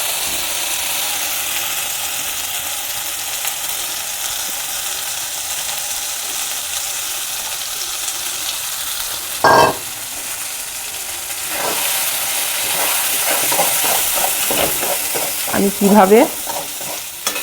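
Pea paste for kachuri filling fries in a hot pan with a steady close sizzle, joined near the end by a run of scraping stir strokes; a voice speaks briefly.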